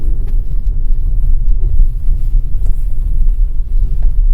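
Inside a MAGNA all-wheel-drive test car running a snow slalom on a winter course, a loud, steady low rumble of engine and road noise with wind buffeting, and no voices.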